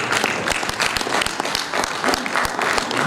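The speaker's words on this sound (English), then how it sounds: "This clap, though" Audience applause at an architects' annual general meeting and conference; continuous crowd clapping with a few sharp, louder claps standing out, fairly close and without speech.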